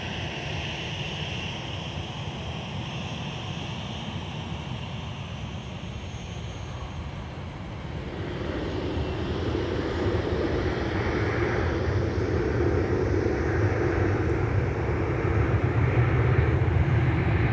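Evening at MSP airport: a distant aircraft engine hum rises from faint to a steadier, louder whine about halfway through as a plane taxis nearby.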